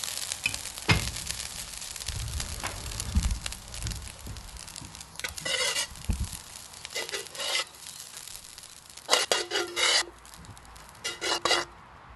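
Fried rice with egg and pork lard being tossed and stirred in a hot pan, steady sizzling broken by scraping and rustling bursts of the spatula, close and moderately loud.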